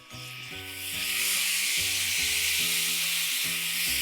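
Soy sauce hitting a hot pan for honey chicken, a sudden hissing sizzle that rises within a second and holds loud and bright, with background music and no talking.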